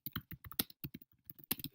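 Fingers tap out quick bursts on a computer keyboard, a close, crisp run of irregular clicks with short gaps between them.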